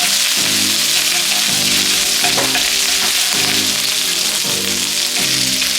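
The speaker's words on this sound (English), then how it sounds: "Adding my ginger and garlic inside my oil. Fry it a bit." Grated ginger and garlic fry in hot oil, a loud, close, crackling sizzle with rhythmic bursts as the pan is stirred, continuous throughout with no talking.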